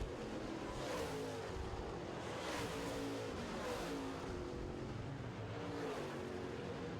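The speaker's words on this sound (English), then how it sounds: "Greg Ferris in the 14 looking good as he heads down the back straightaway." Late model race cars roar around Red River Co-op Speedway in a feature race, a dense, steady wall of engine noise with faint rising passes, distant and continuous.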